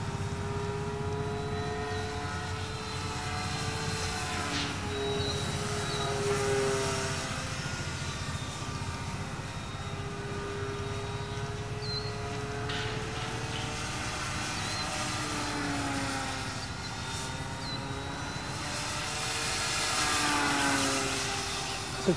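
A Flyzone Focke-Wulf Fw 190 RC model plane of 1130 mm span flies overhead, its electric motor and propeller droning at moderate distance and rising and falling in pitch as it passes and circles, steady throughout with no talk.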